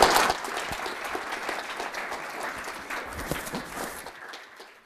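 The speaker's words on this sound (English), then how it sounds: "Give a big applause." An audience at a business development seminar applauds steadily for several seconds, a dense wash of clapping that tapers off near the end.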